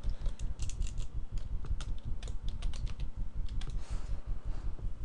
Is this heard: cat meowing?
no